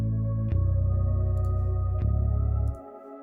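A sustained synth key tone from the Sky Keys plugin hums as a soft background texture, low and steady, briefly re-struck twice before fading out, with no talk over it.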